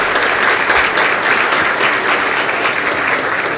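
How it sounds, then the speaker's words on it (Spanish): A conference audience gives a guest a warm welcome with steady, sustained applause, dense and close, and no one speaks over it. "Un gran aplauso para él por su presencia."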